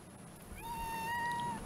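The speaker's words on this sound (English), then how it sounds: "There go one of my kitty cats." A single drawn-out cat meow, clear and fairly close, rising then holding steady for about a second over a low background rumble.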